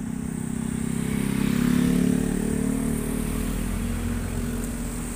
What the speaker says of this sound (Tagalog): mayroon ng mga four wheels na dumadaan